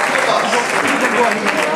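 Crowd at a cycling race awards ceremony in Mauvezin claps briefly for a masters-category winner, a short burst of dense applause mixed with a voice over a loudspeaker.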